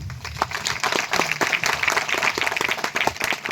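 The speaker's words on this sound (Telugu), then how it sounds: "ఒకసారి చప్పట్లు కొడదామా?" Congregation applause at a Christmas celebration in Palimela, a lively burst of many hands clapping that carries steadily through the clip, close and moderately loud.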